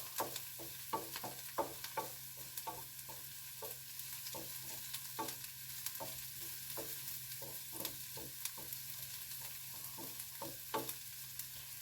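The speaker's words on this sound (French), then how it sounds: "je vais mettre un peu de vinaigre balsamique" Food sizzles faintly in a frying pan with balsamic vinegar added, under a quiet hiss broken by regular scraping stirs of a utensil against the pan.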